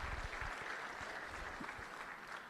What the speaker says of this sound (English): Yeah, that deserves a clap.